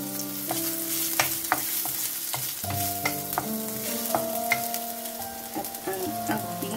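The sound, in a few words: ginger sizzling while stir-frying in hot olive oil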